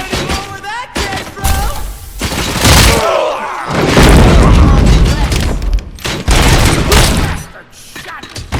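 Gunfire in the video game RoboCop: Rogue City, with loud booming shots and heavy impacts that repeat in dense bursts, mixed with shattering debris and shouted voices.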